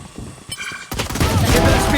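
Gunfire in a shooter video game: a few sharp shots, then a loud, dense burst of rapid overlapping fire that fills the rest of the moment.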